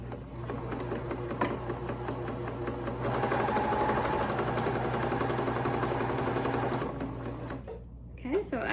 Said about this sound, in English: you want to make sure you are using a zigzag stitch because we are using knit material